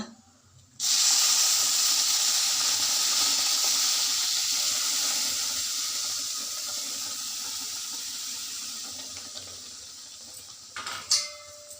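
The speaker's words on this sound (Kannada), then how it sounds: "ಇದು ನೀರು ಕುದೀತಿದೆ, ಇದನ್ನು ನಿಧಾನಕ್ಕೆ ಹಾಕೋಣ" A sudden loud bubbling hiss of boiling water for cashew-carrot upma starts and continues, slowly easing off, with a brief clink of a utensil near the end.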